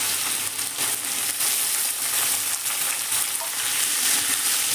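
Cut sweet potato fries in hot oil with a dense, continuous sizzle, with soft stirring scrapes surfacing now and then through the close, steady crackle.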